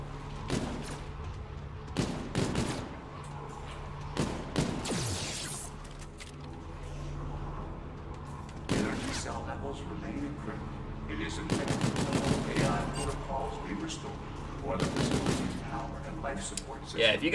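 Rapid bursts of gunfire from the OSA weapon blasting zombies on round one of a Call of Duty zombies map, repeated sharp shots in clusters mixed with game effects, under occasional talk.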